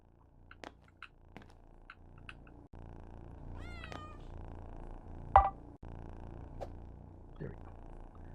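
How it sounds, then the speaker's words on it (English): A cat purrs inside the video game Returns Outlet Simulator, a low, soft continuous rumble joined by a few short meow-like chirps and clicks, with some quiet talk over it. "Now everybody can listen to the dulcet tones of a cat purr."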